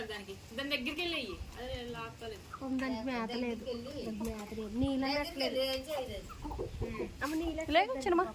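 Village chickens and a big rooster cluck nearby in short, repeated bursts while people talk over them.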